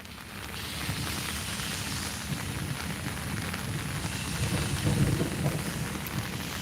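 Heavy rain in Sylhet falls as a dense, constant hiss with a low rumble that swells slightly toward the end, steady and without pauses.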